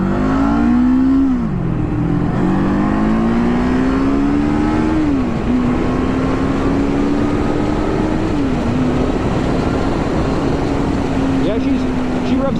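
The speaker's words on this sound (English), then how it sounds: "She revs up pretty good." A 2024 Kawasaki Eliminator cruiser motorcycle engine revs close by, its pitch rising and falling through several blips before settling into a steady high idle, loud and continuous.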